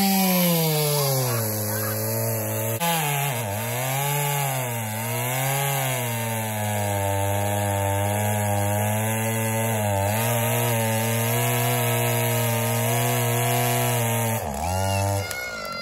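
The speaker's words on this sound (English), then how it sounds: "chainsaw." A chainsaw runs loud and steady close by for the whole stretch, its engine note rising and falling as the throttle changes, with a brief dip near the end; ducks are around it outdoors.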